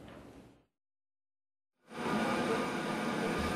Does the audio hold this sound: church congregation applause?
no